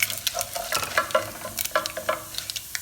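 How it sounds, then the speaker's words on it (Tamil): Mustard seeds, fennel and lentils crackle and sizzle in hot oil, close and lively, with sharp irregular pops and spits over a steady frying hiss. "இதுக்குள்ள இப்போ நான் கடுகை போடுறேன், பெருஞ்சீரகம்,"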